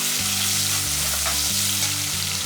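Crushed garlic, curry leaves and small shallots fry in hot oil, making a dense, even sizzle that holds steady and close for a couple of seconds, with no voices.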